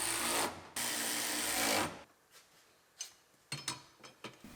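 A power tool runs in two loud bursts while bolting a part back into a Dirtnali off-road buggy during reassembly, followed by a few short clanks and taps of handling.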